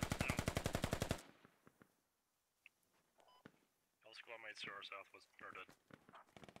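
A rapid burst of automatic gunfire in the video game Squad cracks out loud and evenly spaced for about a second, then gives way to quiet and radio-style voices talking.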